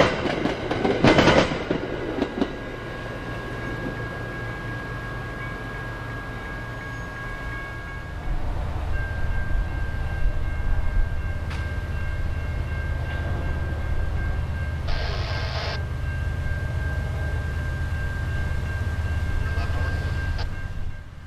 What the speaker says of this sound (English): A westbound Metro commuter train is next by JB Tower.